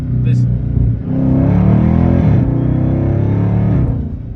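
A Dodge Charger or Challenger 392 Scat Pack with a Hellcat swap accelerates in third gear, a steady engine drone rising with a whine on top, heard from inside the car with a voice speaking over it.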